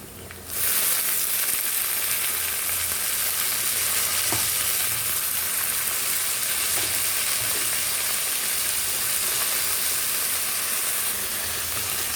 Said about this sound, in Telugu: దీన్ని మంచిగా ఫ్రై చేసుకోవాలి.